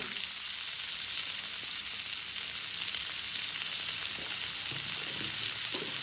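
Okra fries in a pan with turmeric and salt for an egg and okra dish, a dense, even sizzle that crackles continuously throughout, with faint stirring taps late on.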